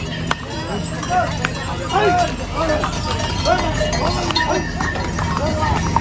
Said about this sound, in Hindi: ये देखो कैसे घोड़े लाइन से जा रहे हैं अपना चढ़ के ना ऊपर